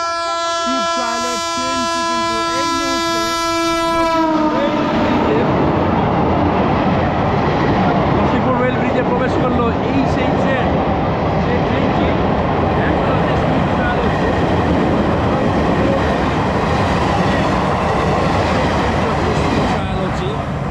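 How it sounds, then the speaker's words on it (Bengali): A train horn blares with a long, steady tone, then gives way to a loud, roaring rumble of the train passing close by on the Nashipur rail bridge in Murshidabad. "ট্রেনটি আসছে হর্ন দিতে দিতে"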